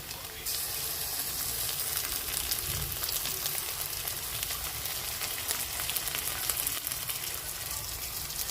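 Onions with ginger garlic paste sautéing in a pan for a South Indian chicken kulampu, heard as a quiet, continuous frying sizzle with light crackle and occasional stirring scrapes throughout.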